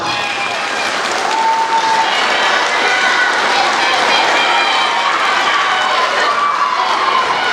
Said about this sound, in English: One more round of applause also, not for the students, but for our teachers and staff as well.